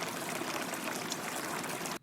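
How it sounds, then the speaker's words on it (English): Steady water stream sample from a Future Bass Essentials sound pack: a dense, continuous trickling and pouring wash that stays even for about two seconds, then cuts off abruptly. "I'm just going to take from our Future Bass Essentials pack this sound effect, which is water."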